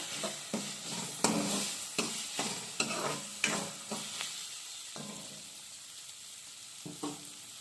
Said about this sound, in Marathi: आधी बोंबील हे तेलामध्ये फ्राय करून घ्यायचे फ्राय करताना गॅस थोडा फास्ट ठेवायचा